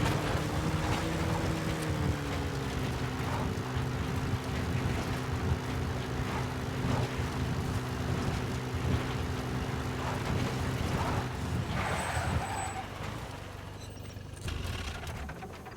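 A support helicopter arrives at a landing zone in the game Metal Gear Solid V. A steady, loud rotor and engine drone with a droning tonal hum runs for about twelve seconds before it eases off and thins out near the end.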